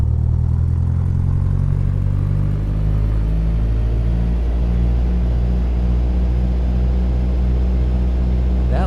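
Cessna 172 piston engine in the Infinite Flight simulator running up to about 1800 RPM, a loud, steady droning rumble with strong low harmonics that holds without letting up.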